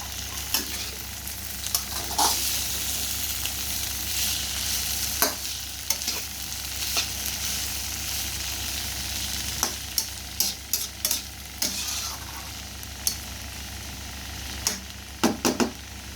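Vegetable bhaji with onion and chili sizzles steadily in a pan while a utensil scrapes and stirs, with frequent clinks and scrapes punctuating the continuous frying, close up and without talk.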